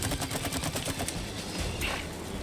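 Rapid bursts of gunfire crackle through a busy It Takes Two game soundscape, repeated shots in quick succession under a steady background din.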